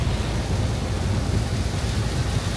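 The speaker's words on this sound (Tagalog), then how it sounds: "Grabe, ang lakas na ng ulan." Heavy rain pours down during a storm in the Netherlands while a car drives along the road, a steady dense roar that stays loud and unbroken throughout, with no voices.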